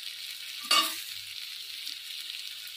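A spoon scrapes once through a sizzling pan as sugar is stirred into a water lily stem and hilsa fish head curry, followed by a soft, steady frying hiss.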